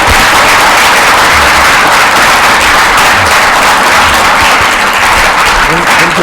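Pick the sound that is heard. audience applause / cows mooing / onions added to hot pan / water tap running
audience applause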